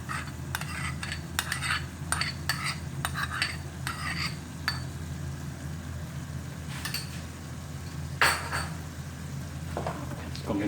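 A spoon works tomato ketchup into homemade pizza sauce with softened tomatoes in a pan, giving close scraping strokes and quick metallic clinks in bursts, with a quieter stretch in the middle.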